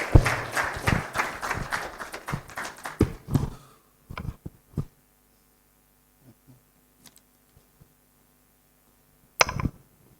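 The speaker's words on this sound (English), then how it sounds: "Let's give him a round of applause." Meetup audience applause, a burst of dense clapping for a few seconds that thins to scattered claps, then quiet room tone with faint knocks and a brief handling thump near the end.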